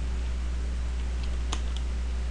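Computer keyboard being typed on, a few faint soft key clicks over a constant low background hum.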